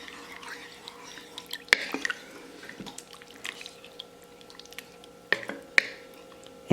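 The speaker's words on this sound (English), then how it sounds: "I'll stir this around." A spoon stirs heavy whipping cream into beef kabob pieces in a crock pot, giving soft wet squishes and light drips, with a couple of sharper clinks against the pot, close and fairly quiet.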